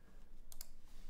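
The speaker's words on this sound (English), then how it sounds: "This is what the mouse sounds like right at the keyboard." A computer mouse clicks twice in quick succession beside a gasket-mounted mechanical keyboard without foam, sharp faint clicks over a quiet background hum.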